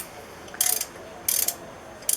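Three quick bursts of ratchet clicking, close and crisp, as nuts and bolts are backed out of the engine bay of a 1968 Fiat 850 Spider, with quiet pauses between the strokes.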